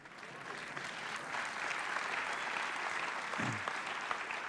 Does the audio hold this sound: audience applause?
yes